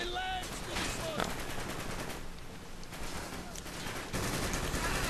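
Rapid bursts of automatic gunfire from a Call of Duty: Black Ops firefight on the Wii campaign, dense and continuous with crackling shots and a few sharper reports layered over a steady loud battle din.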